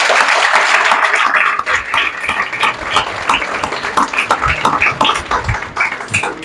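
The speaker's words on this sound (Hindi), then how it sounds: "आइए बेटा ताली बजाइए सब लोग।" Classroom audience at an exam coaching institute clapping for a student, dense applause mixed with close individual claps, loud at first and then thinning into scattered, uneven clapping.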